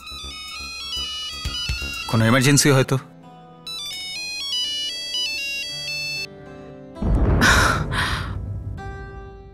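A mobile phone ringtone plays a bright repeating electronic melody, broken by short bursts of speech and breathy exclamations between the rings.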